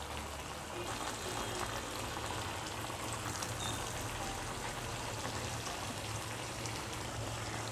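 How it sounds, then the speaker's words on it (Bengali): Fish pieces go into a hot pan of potatoes and spices for a Bengali fish curry, a continuous dense bubbling sizzle like rain, steady and close, with no talking. "এখন মাছগুলো আমি দিয়ে দিব।"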